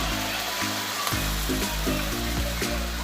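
Soy sauce and oyster sauce hit beef frying in a pan for Chinese fried beef pasta, giving a loud continuous sizzle with a few clinks and scrapes of stirring.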